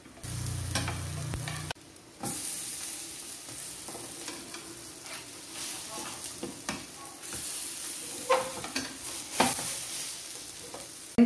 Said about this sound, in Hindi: तो टिक्कियों को हमें हल्के हल्के हिला देना है जिससे चारों तरफ से जो टिक्कियां हैं